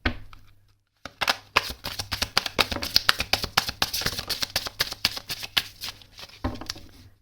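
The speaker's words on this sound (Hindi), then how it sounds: "लास्ट शफल है।" A deck of tarot cards is shuffled by hand, with a rapid, close run of crisp riffling taps and flutters that begins after a short pause and continues steadily, with a low hum underneath.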